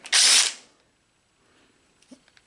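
A refurbished Harbor Freight hammer drill gives one loud half-second burst with its hammer mechanism working, then falls silent apart from a few faint clicks.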